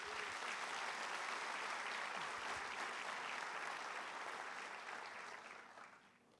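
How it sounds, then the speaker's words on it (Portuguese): A church congregation applauding, a dense, continuous wash of clapping from many hands filling the room, holding steady before gradually fading away. "Vamos dar um aplauso ao Senhor Jesus?"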